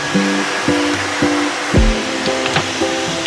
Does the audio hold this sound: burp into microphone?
no